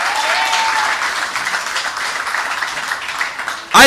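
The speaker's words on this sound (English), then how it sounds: "Give her a round of applause." Crowd applauding at an outdoor political rally in Tunapuna, a loud sustained wash of clapping that gradually thins, with a sharp close sound breaking in at the very end.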